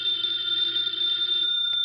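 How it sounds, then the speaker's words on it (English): An old-style telephone bell rings steadily and fairly loud in an old radio drama, a continuous bright trilling ring of nearly two seconds that cuts off at the end. "Answer the phone, Archie."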